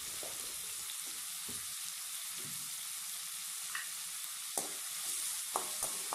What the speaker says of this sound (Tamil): பச்சை மிளகாயும் தக்காளியும் சேர்த்துடலாம். நல்லா வதக்கி விட்டுடலாம்.